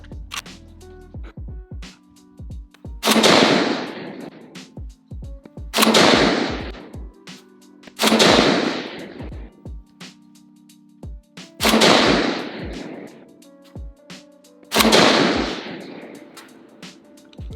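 A Palmetto State Armory AK-47 Liberty GB2 rifle fires Winchester PDX-1 hollow point rounds: five loud, sharp single shots spaced about two to three seconds apart, each followed by a short decaying echo.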